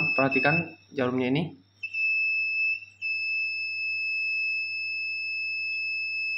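A multimeter's continuity buzzer, tested across the coil wires of a stepper motor, gives a steady high-pitched electronic tone after a brief spoken line, then keeps droning alone and fairly faint.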